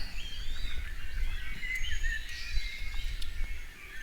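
A dawn chorus of birds fills the La Palma laurel forest. Several overlapping songs and chirps carry at moderate distance, continuous throughout, with a soft low rumble underneath.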